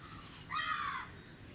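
A single short, harsh bird call sounds once while the bird is being petted, fairly close and clear over a quiet background.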